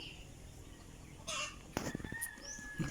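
A hen clucks a few times at a distance, quiet, with faint rustling around it.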